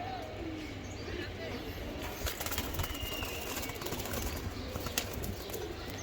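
Racer pigeon chick among pigeons, with soft cooing and occasional wing flutters at a low, steady level, under ongoing talk and background noise.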